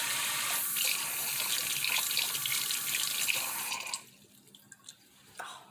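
A tap runs steadily into a sink while hands are washed, a broad close hiss that cuts off sharply near the end, leaving a few faint drips and clatters.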